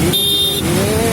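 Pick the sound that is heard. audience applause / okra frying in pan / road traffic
road traffic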